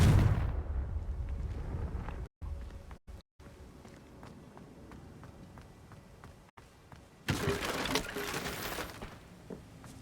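A Confringo fire spell blasts in Hogwarts Legacy, a loud burst at the start that decays into rumbling debris and clattering footsteps, then a second rough blast-like surge near the end.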